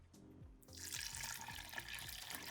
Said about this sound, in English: I am also gonna add some water.